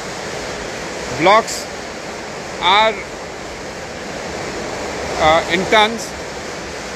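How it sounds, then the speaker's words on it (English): Steady broad roar of a large stone-cutting machine running nearby in a marble factory, with someone speaking briefly in short bursts over the constant noise. "sorry about the noise, it's the machine that's going on in the factory"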